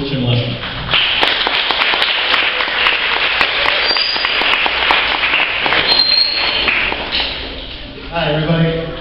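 Audience applause at a college campus keynote retreat, a dense burst of many hands clapping that carries on for several seconds and then fades out as a voice begins speaking.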